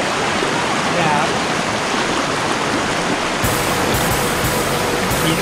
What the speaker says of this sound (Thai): โอ้โหน้ำไหลลงมาแรงมากนะครับ